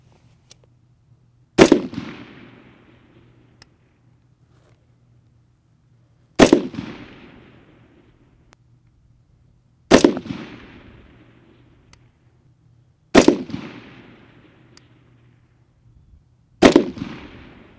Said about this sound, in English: let's go ahead and put up a good solid 5-shot group